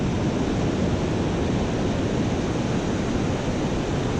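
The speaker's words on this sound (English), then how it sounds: "a direct shot of salt water to the reel" Ocean surf rolls in at high tide on the Oregon coast at Lost Creek, a dense, continuous roar of breaking waves and wash that stays loud and unbroken throughout.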